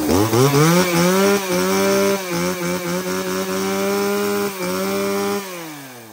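A Japanese-market used chainsaw engine (Stihl, Echo, Tanaka or Shindaiwa) runs loud and close, its droning whine holding steady with slight dips in pitch before winding down.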